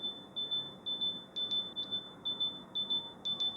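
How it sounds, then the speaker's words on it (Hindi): OnePlus Buds 4 earbuds play a loud Find My Earbuds locator beep: a steady high tone that repeats in short regular bursts, about ten pulses over a few seconds, heard alone with no talking. "इस तरीके से काफ़ी एक लाउड जो है ना बीप वाला साउंड प्ले होता है ईयरफोन में।"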